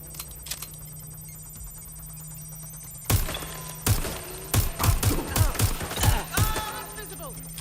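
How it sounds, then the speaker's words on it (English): Rapid bursts of gunfire in Watch Dogs: Legion break out after a quieter stretch, several sharp loud shots in quick succession with faint voices underneath. "target on fire. Gunfire."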